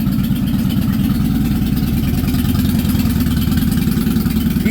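A 2003 Honda VT Shadow 750 ACE motorcycle with aftermarket pipes idles up close, giving a steady, loud, raspy low rumble with an even pulse and no talk.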